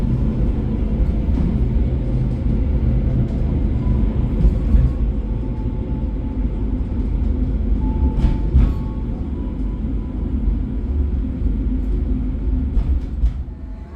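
Gaya Baru Malam Selatan train pulling into Ketanggungan station, heard as a loud continuous low rumble of wheels and carriages with a few brief squeals and clanks along the way.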